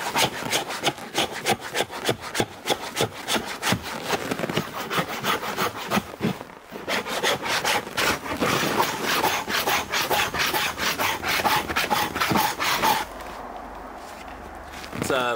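Continuous rhythmic rasping of a scraper working over a moose hide outdoors at minus 20 degrees Celsius, removing the last small hairs; steady, close, repeated strokes with a brief pause and quieter scraping near the end.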